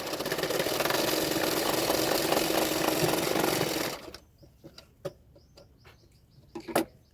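Electric sewing machine stitching a double katori blouse, a steady close mechanical whir for about four seconds that then stops, leaving a few faint handling clicks and taps.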